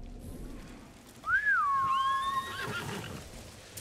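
A horse in the video game Ghost of Tsushima lets out a single clear, rising-and-falling whinny that trails off over quiet background game ambience.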